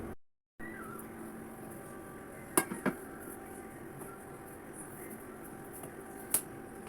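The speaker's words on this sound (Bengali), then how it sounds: "চুলা থেকে পাত্রটা নামিয়ে নিয়ে একটু শক্ত করে বসিয়ে দিলাম" A metal cooking pot lifted off a stove and set down firmly gives a few faint, sharp clinks against a quiet kitchen background, two close together and one more a few seconds later.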